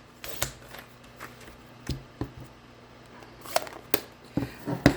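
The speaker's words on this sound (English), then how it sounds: "I'm just going to cut this so it fits through the die cut machine better" Scissors cut paper to size for a die cut machine at a craft table, with a few sharp, isolated snips and soft paper rustling, close up and spaced irregularly.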